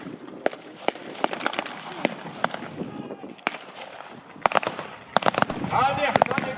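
Blank-fired gunfire crackles through a WWII reenactment of the capture of Tiger Tank 131, with sharp shots coming singly and in scattered bursts at mid distance, voices and crowd noise underneath, and a denser clatter near the end.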